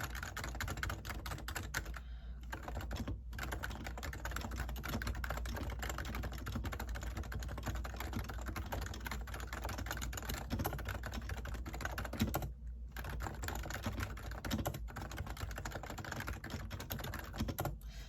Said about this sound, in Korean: 이게 무접점 키보드, 무접점 방식의 키보드라고 하고